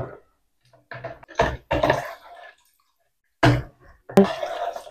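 Water poured into a gin and pomelo mixture for homemade ice candy, heard as several short splashing bursts separated by quiet gaps, close and fairly clear with no talking.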